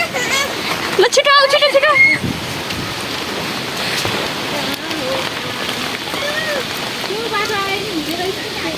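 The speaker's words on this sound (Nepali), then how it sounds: "पानी आयो पानी" Rain falls as a steady wash of hiss and patter, with people talking and calling out over it throughout.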